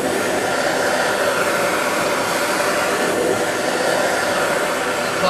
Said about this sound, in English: When I heat a torch of any crucible or melting dish, I start from the outer edge